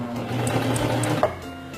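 A sewing machine running in reverse for a few stitches, a steady fast mechanical whirr and rhythmic needle clatter, close and alone.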